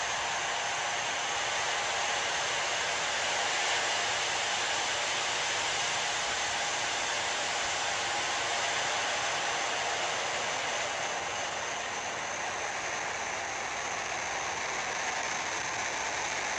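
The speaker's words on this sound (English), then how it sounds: "Ignition liftoff." SpaceX Dragon rocket at liftoff: a loud, continuous broadband roar of engines that holds steady throughout, with no breaks and no voices.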